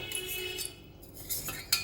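A metal spoon clinks a few times against a pan of cabbage tempering, short bright taps with a sharper one near the end, over a quiet kitchen background.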